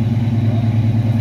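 1970 Chevrolet C10 pickup with a Flowmaster dual exhaust and chrome tips, a loud, close, deep idling rumble with a steady throb across the whole short moment.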